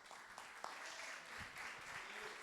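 Church congregation applauding in praise during a worship service, a steady wash of clapping at moderate distance that holds evenly throughout with a few sharper individual claps standing out.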